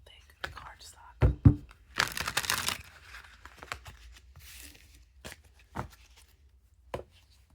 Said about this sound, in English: shuffle this up so we can have a card of the day.